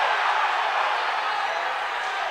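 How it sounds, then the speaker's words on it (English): A varsity high school hockey playoff crowd at a rink roars steadily after a hit, a dense, sustained wash of cheering and shouting that stays fairly loud throughout. "This gets a rise out of the crowd early."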